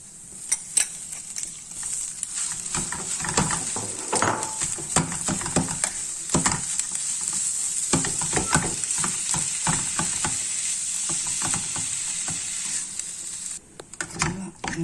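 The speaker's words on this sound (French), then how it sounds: "On va mettre notre viande hachée." Minced meat sizzling with onions in a frying pan, a steady bright hiss throughout with frequent scraping stirs and utensil clatter close by.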